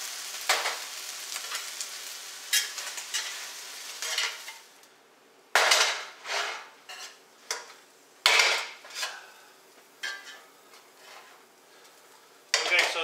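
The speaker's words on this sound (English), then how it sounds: "So what I'm going to do is transfer it to the colander." Cooked rice for dirty rice is tipped into a metal colander, with repeated sharp clinks and scrapes of a pan and utensils in uneven bursts, close and fairly loud, separated by brief quiet gaps.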